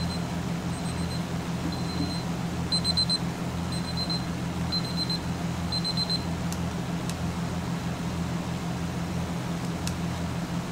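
A timer alarm beeps in a steady repeating pattern of short, faint tones over a constant fan-like hum, then stops, leaving only the background drone.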